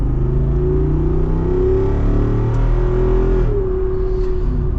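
A Jeep Wrangler 392 or Dodge Challenger ScatPack V8 pulls away under light throttle on a public road, a steady deep engine rumble with rising harmonic tones that shift as it goes through a gear change, heard from inside the cabin.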